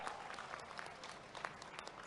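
Audience at a political rally clapping, a faint, dense patter of applause heard from a distance with no voices on top.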